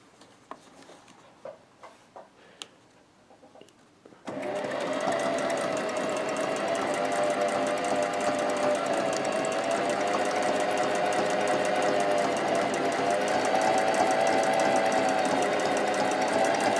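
Several faint taps and clicks come first, then a sewing machine starts and runs steadily with a fast, even, buzzing rhythm. It is chain-stitching an overcast binding along loose paper sheets, close and continuous, with no voices.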